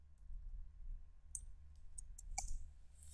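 Keys clicked on a computer keyboard to enter values into a spreadsheet-style data tool; a few sparse, quiet taps in a short burst over a low room hum, no voice.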